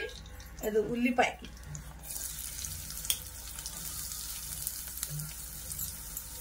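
Oil sizzling in a pan while making kaju butter masala curry, with a soft, steady hiss after a brief clatter at the start.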